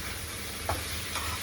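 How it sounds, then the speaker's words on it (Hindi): Minced meat (keema) fries in a pan with a constant close sizzle and a couple of brief stirring scrapes. "अब सेम ऐसे ही कीमे को भी फ्राई करना है"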